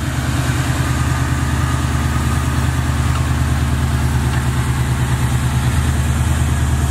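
A Chevrolet box Chevy's engine idles steadily and loudly up close, a smooth continuous rumble with an even pulsing rhythm.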